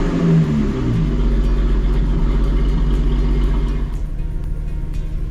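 A Lotus Exige 380 idles just after an early-morning start, a loud, close, rumbling engine note that eases down in pitch and settles into a steady, slightly throbbing idle with no talk over it.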